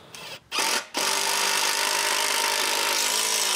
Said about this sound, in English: Then I screw them in place.